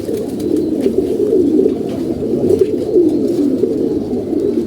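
Pigeons coo in a home loft in Mirpur, a low, continuous chorus of overlapping throaty coos, close and steady, with no talk.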